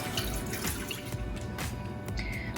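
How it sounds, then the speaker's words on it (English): Water from a cup is poured into a pot while making rock candy, a short close splashing trickle with small drips, fairly quiet and with no talking. "we're going to pour our cup of water into our pot"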